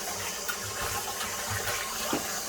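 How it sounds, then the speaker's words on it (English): Fish being rinsed under a running tap while cooking soup, a close, continuous splash of flowing water with small gurgles and shifts as the fish moves under the stream. "Make sure you wash your fish until there is no traces of blood coming out of the fish again."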